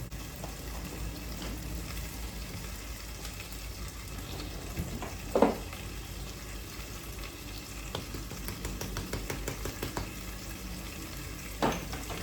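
Food frying in a pan at home, a steady soft sizzle running throughout with a few brief clinks and stirring knocks at moderate distance.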